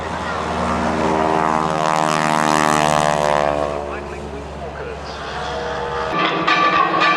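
Propeller aircraft engines roar loudly and steadily as planes take off at the Sanicole Airshow 2010, a sustained droning hum that swells and then eases slightly before rising again near the end.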